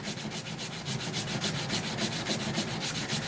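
Wood sanded with sandpaper on a guitar build with a scarf joint, giving a continuous close rasping scrape in a fast, even back-and-forth rhythm with no talking.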